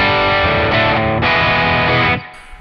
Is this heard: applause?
no